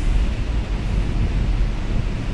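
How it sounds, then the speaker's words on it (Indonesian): Strong night wind buffeting the microphone over a choppy sea at the Bakauheni ferry harbour, a loud, constant low roar with no voices. "Malam ini angin agak lumayan ya"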